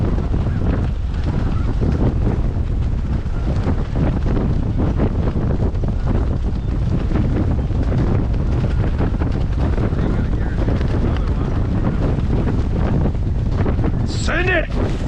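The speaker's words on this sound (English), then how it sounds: "this wind's kind of helping us" Strong wind roars continuously through a blustery snow storm, buffeting the microphone at high level throughout, with voices shouting faintly beneath it.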